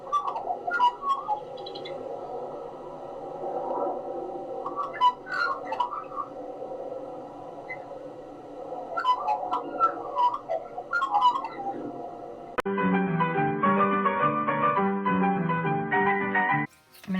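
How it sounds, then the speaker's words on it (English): Australian magpie warbling in bursts of varied, fluting calls over a steady background hum, then the bird goes quiet and a passage of music takes over for the last few seconds. "Here's what it sounds like. Enjoy the magpie."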